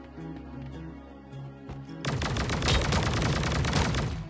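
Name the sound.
gunfire in the video game Sausage Man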